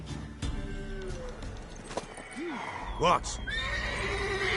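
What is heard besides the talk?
horse (mare) neighing and hooves in a PS4 video game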